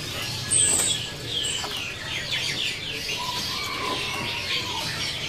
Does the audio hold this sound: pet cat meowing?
no